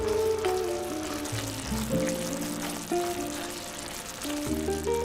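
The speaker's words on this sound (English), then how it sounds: "We'll continue to simmer the sauce for a couple more minutes so that it thickens a little." Sauce with added cream simmers and thickens in a pan, bubbling and sizzling softly and continuously close by, with faint clinks under a steady low hum.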